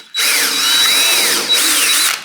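A power drill whirs steadily while pre-drilling wood for an Adirondack chair backrest for about two seconds, its pitch rising and dipping as it bites, with a brief pause near the end.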